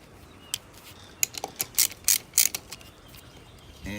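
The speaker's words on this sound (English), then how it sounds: "I've got some 10mm bolts on the side here. We're going to take those off." Ratchet wrench backing out 10mm bolts from a Baja Designs Squadron headlight mount on a DRZ motorcycle: a handful of short, sharp clicking bursts in quick succession, close and fairly loud, with quiet gaps and no talk.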